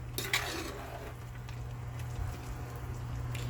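Carrot fried rice stirred in a pan, a few metallic scrapes and clinks of the utensil against the pan over a low steady hum of cooking, with no talking.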